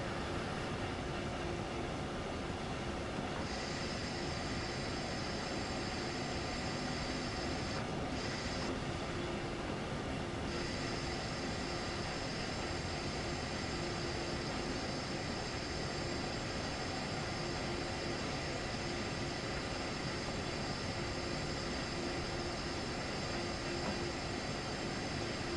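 Light local passenger train rolling downhill on the Main Spessart Bahn in Train Sim World: a steady, continuous rumble of wheels and running gear with a broad hiss, heard alone throughout with a faint tonal whine that comes and goes.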